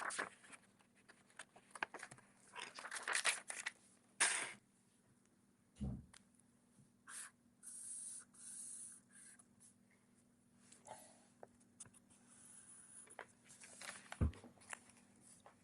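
A pencil draws a dart line on a paper sewing pattern, giving soft intermittent scratchy strokes in short bursts, faint and close, with small taps and rustles between them.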